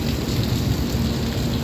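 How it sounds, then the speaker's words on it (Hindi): Heavy rain pours steadily and loudly around a moving Indian express train departing Vapi station on the Ahmedabad to Mumbai route, a dense continuous hiss with no voices. "बारिश यहाँ भी बहुत तेज़ आई हुई है"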